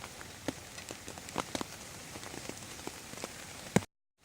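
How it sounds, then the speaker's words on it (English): Rain patters steadily on a surface during a thunderstorm on a motorbike camping trip from Slovakia to Ukraine, with scattered louder drops close by before an abrupt cut to silence. "Well, I'm in a thunderstorm now."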